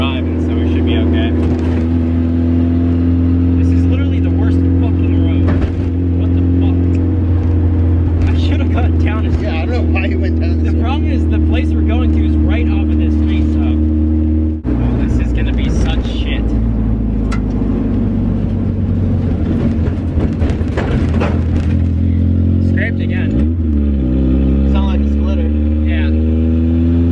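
A heavily cambered Mazda Miata rolls over a rough road, its steady engine drone and road rumble filling the cabin continuously, with a jolt partway through and a rising rev near the end as someone talks over it.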